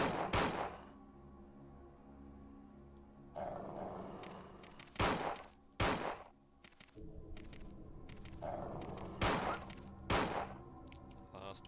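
Gunshots in the survival horror game Resident Evil 2, fired in a hallway: several loud, sharp blasts spread irregularly over roughly twelve seconds, with rumbling game ambience and scuffling noises between them and no talking.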